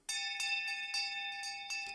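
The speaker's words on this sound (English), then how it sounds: "You didn't need to ring school bells." A school bell chimes in Animal Crossing: New Horizons, a bright ringing tone struck about eight times in quick, slightly uneven succession, clear and alone.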